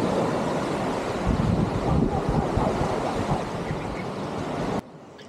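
Sea waves wash continuously at a beach resort in Ternate, Cavite, a broad surging rush mixed with gusting wind on the microphone, ending in a sudden cut.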